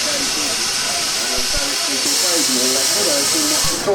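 Steam engine at a steam rally hissing continuously and loudly, with someone narrating over the hiss throughout.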